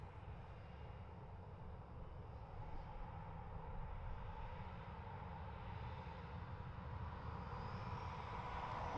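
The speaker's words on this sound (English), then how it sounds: "Our next departure is Ryanair off to Amsterdam, 737-800" Ryanair Boeing 737-800 jet departing Dublin Airport toward Amsterdam, a steady, continuous engine roar with broad low rumble that holds at moderate loudness throughout, no voices.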